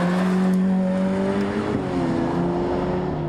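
A Ferrari F8 Tributo drives along a winding road, its engine holding a loud, steady note with shifting pitch as it accelerates and passes.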